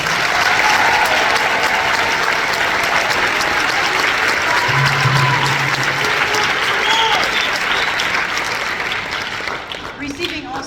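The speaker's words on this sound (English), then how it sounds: "please give him a round of applause" Audience at a high school band concert applauding a trombonist, a loud, continuous wall of clapping from a full room, steady for many seconds with some cheers and voices mixed in, fading as it winds down.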